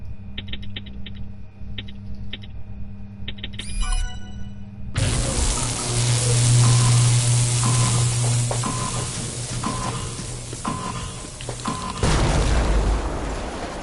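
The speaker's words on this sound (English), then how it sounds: "That was a nice explosion." A loud, sustained explosion in the video game Terminator Resistance bursts in after quieter mechanical beeping and clicks, then rumbles and crackles for several seconds.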